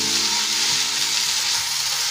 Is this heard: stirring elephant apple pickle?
yes